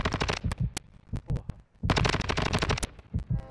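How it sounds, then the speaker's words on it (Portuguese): Sniper rifle gunfire in the video game Warzone 2.0 DMZ: several sharp, loud shots burst out in quick clusters with brief pauses between them, close and dominant, with no talking over them. "O sniper lá tá atirando"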